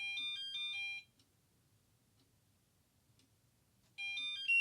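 Electronic pager alert tones: a quick, bright series of high beeping notes, a silent gap of about three seconds, then another burst of the same beeper melody starting up, fairly faint.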